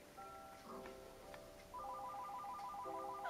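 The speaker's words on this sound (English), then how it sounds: "Why does the phone keep ringing?" A telephone ringtone plays in a Minecraft game, a looping electronic melody of bright beeping tones that repeats and grows slightly louder partway through, heard alone and fairly faint.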